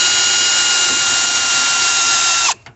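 A cordless power drill fitted with a 3/8 bit spins steadily at high speed, winding a trailer jack down with a loud continuous whine, then cuts off abruptly near the end.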